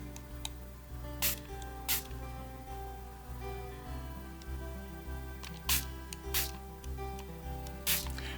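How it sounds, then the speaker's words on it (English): A spray bottle spritzed onto a collage, several short sharp bursts of spray in uneven rhythm, close and alone over a quiet low hum. "Let's spritz."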